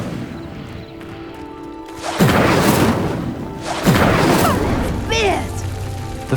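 Incendio fire spell cast at pyres in Hogwarts Legacy, heard as two loud whooshing, crackling flame bursts ignite in turn over ambient game music, with a shimmering magical sweep at the end.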